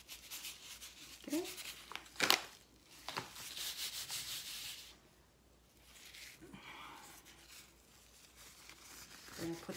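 Hands massaging a dry smoking rub into raw pork belly for lechon, heard up close as bursts of gritty rubbing and crinkling with quieter pauses between.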